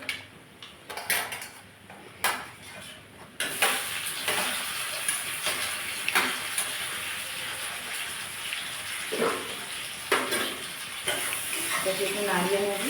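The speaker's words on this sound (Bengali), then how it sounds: "এবার দিয়ে দেবো আমি টমেটো কুচো," Chopped tomato is stirred into onions and green chillies frying in a pan, making a continuous moderate sizzle. Spatula clatters against the pan come first, followed by irregular scraping stirs.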